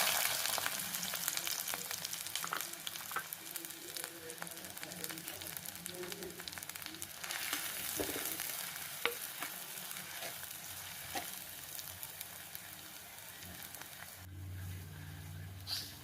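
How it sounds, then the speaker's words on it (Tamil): Mustard and fenugreek seeds sputter and crackle in hot oil for a Tamil sardine roast, a steady dense sizzle with scattered sharp pops and faint stirring, a few low hums near the end. "கொஞ்சமாக வெந்தயம், கடுகு, வெந்தயமும் கடுகும் போட்டிருக்கு. இது பொரியட்டும்."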